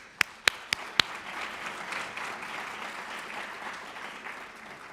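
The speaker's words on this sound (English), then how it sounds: "big round of applause" An audience at a Commonwealth youth forum applauds, a few sharp, close claps up front giving way to a sustained, moderate wash of clapping from the crowd.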